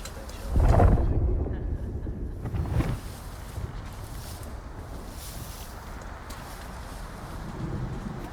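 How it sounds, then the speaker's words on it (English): Storm wind rushes across a sandy site in Unknown 9: Awakening, with two heavy low rumbles of thunder early on, then a steady gusting roar that stays loud and unbroken. "That storm's not going to be pretty."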